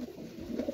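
A male racing pigeon gives a brief, low, throaty coo, close and fairly soft, with no talking over it.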